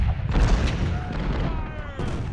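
Cannon fire in the Civil War strategy game Ultimate General: Civil War, heavy booms rolling through a dense battlefield rumble, several overlapping blasts at mid distance with a brief whistling shot trailing near the end.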